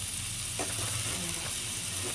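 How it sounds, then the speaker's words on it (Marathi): Mutton tossed onto a hot tawa for Agri-style tawa sukha mutton: a steady, fairly quiet sizzle and hiss with a few faint scraping clicks, no talking. "पहिला मटण आहे तोच टाकूया आपण"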